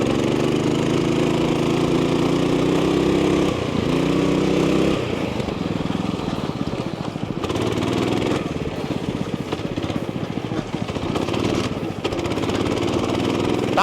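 A racing lawn mower in a BLMRA cross-country race runs loud and close on the throttle, its engine a continuous rough drone that rises and falls slightly as it accelerates along the course.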